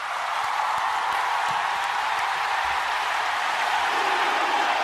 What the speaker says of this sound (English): Round of applause for Nate, ladies and gentlemen.